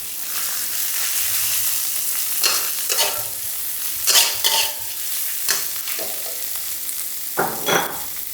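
Tilapia and lemongrass being stir-fried in a wok: a steady sizzle of hot oil runs throughout, broken by irregular scraping spatula strokes against the metal, several close and sharp, with no voices.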